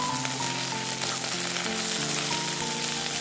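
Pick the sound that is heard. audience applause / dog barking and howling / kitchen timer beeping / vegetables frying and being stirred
vegetables frying and being stirred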